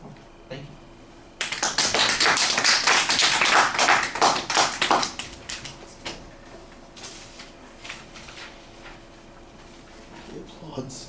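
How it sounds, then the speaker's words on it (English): A small group of about ten people applauds from roughly 1.5 to 5 seconds, a thin patter of separate claps that fades into a few scattered claps, with quiet room tone before and after. "The applause sounds so quiet at 10 people"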